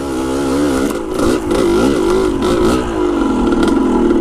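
Dirt bike fitted with a Lectron carburetor climbing a hill in second gear, its engine loud and close, revving up and down in wavering surges with a brief dip partway through.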